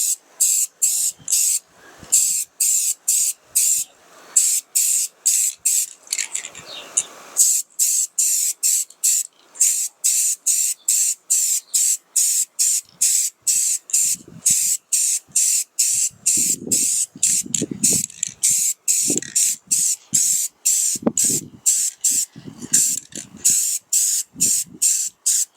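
A spray gun lays paint onto the hood and doors of a Ford D-150 truck in repeated short bursts of loud hiss with brief gaps between them, and a voice speaks quietly in some of the gaps.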